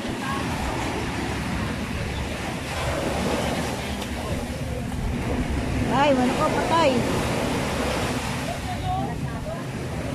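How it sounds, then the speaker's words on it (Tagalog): Surf washes onto the beach at Nasugbu, Batangas, a steady roar of waves and wind buffeting the microphone, with a person talking briefly over it and a few higher vocal sounds midway. "Naabot ang tubig, nawawaswas."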